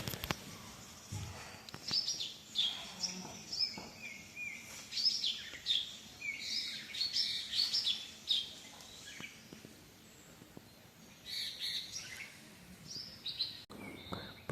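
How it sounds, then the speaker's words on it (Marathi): Birds chirp and twitter through a cold, foggy winter village dawn in Konkan, with many small calls scattered near and far in irregular bursts, thinning out toward the end. "पक्ष्यांचा किलबिलाट ऐकायला येत असेल तुम्हाला"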